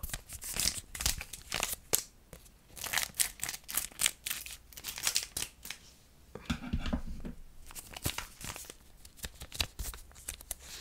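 Scissors snipping open a recent Pokémon booster pack, close and soft, with crisp cuts and crinkling foil wrapper rustles in an irregular stream and no talking.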